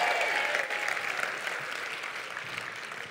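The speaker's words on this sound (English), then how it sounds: "give yourself a round of applause for being here today" An audience at a motivational keynote summit applauds itself, a broad, steady wash of clapping from a large crowd that fades slightly toward the end.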